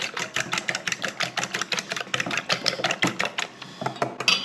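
Eggs for a leftover spaghetti pie are beaten in a bowl, a quick, steady run of close clicking strokes repeating several times a second with little pause.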